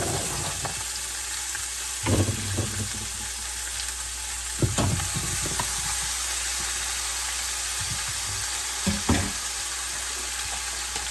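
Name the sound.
vegetables added and stirred in pot after browning roast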